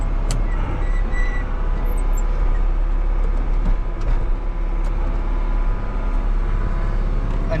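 A vehicle engine drones steadily as the driver gradually downshifts while clearing a frozen, icy area, a continuous low rumble with faint clunks and hisses running unbroken throughout.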